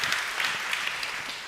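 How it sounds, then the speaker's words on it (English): Applause from an audience at a live conference fireside chat, a steady dense patter of many hands clapping that holds through the whole short stretch without pause. "That but deserves a round of applause."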